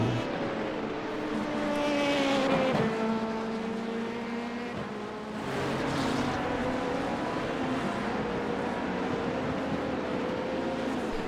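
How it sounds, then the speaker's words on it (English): An IMSA hypercar in the iRacing game sweeps past, its engine note rising and then falling in pitch as it goes by, over the steady drone of the player's own LMP2 car. "Hypercar going by us now."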